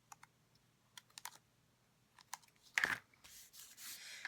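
Scissors trim excess lace from the edge of a handmade greeting card, giving quiet scattered clicks and then a brief crisp snipping and rustle near the end, close and soft with no talking.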